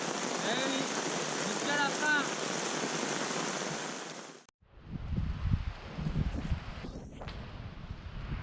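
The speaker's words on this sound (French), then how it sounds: "maintenant ça s'est arrêté, le vent souffle assez fort" Strong wind blows on a desert island off Panama, first a loud, steady hiss, then after a brief dropout it turns into gusty buffeting rumbles against the microphone.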